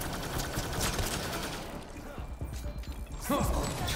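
Rapid gunfire from a weapon in the sci-fi shooter game Mass Effect Andromeda, a dense mechanical burst of shots in the first seconds that thins into scattered clicks and impacts, with a brief sharper effect near the end.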